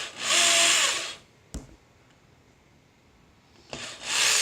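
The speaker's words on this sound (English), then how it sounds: "I'm going to drill these holes through the side" Two bursts of broadband drilling through the side of a wooden frame, about a second each, at the start and end, with a quiet gap and a couple of knocks between.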